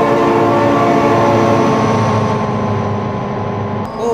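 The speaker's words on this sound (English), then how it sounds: "Oh my god, train!" In the driving game BeamNG.Drive, a train rumbles past loudly and close, sounding a steady droning horn over continuous rolling wheel noise for several seconds.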